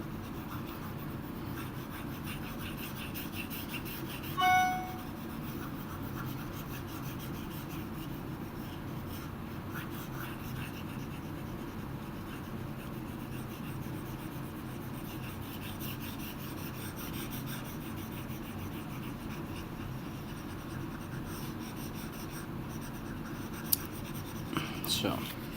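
A marker or pen scratches and rubs steadily across a board as a soft, continuous rasp, with one brief squeak partway through. Someone talks throughout.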